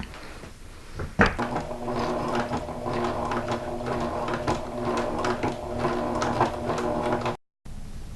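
A sewing machine runs steadily, stitching a fabric pouch closed with a rapid mechanical whir after a sharp click, then stops abruptly just before the end.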